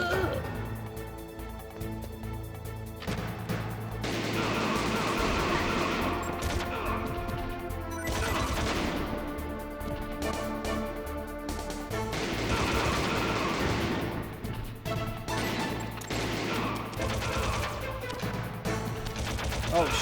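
Dense, loud video game gunfire and crashing impacts from Metal Gear Solid fill the scene, layered over a continuous music score with no clear pauses.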